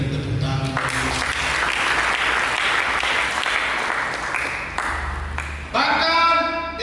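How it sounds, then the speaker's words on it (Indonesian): A church congregation during an Indonesian sermon claps in a broad, sustained round of applause lasting several seconds before fading, with the preacher's voice speaking at the beginning and again at the end. "Berikan tepuk tangan."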